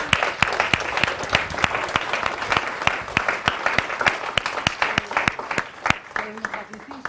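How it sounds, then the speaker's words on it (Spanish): An audience at a gathering breaks into sustained applause, dense rapid clapping close by that fades slightly toward the end, with a few voices underneath. "Podemos aplaudir por el encuentro."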